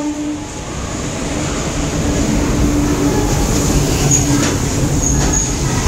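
A train runs at Keonjhar railway station in Odisha, a loud steady rumble of wheels and carriages with faint squeals and clatter building slightly over six seconds, with no talk.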